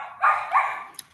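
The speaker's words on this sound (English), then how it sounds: "Sorry about the dogs, it's feeding time." Dogs give two quick barks at feeding time, close and moderately loud, followed by a faint short yip.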